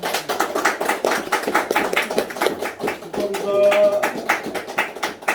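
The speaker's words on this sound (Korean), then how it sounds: "여러분 축하의 박수 한번 쳐주시고요" Congregation clapping in celebration at a church baptism service, a steady spread of many hands filling the room, with a brief tonal musical or vocal sound partway through.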